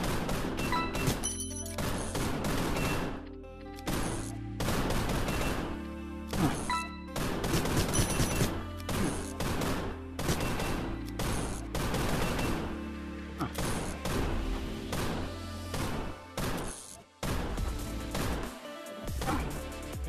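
Rapid gunfire in the video game Gunraiders runs loud and nearly continuous, with dense overlapping pistol shots and brief gaps.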